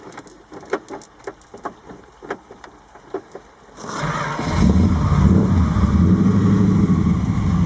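A few faint clicks and taps, then the engine of a 1969 Plymouth Fury III convertible cranks and catches, roaring into a loud, deep idle that rumbles steadily.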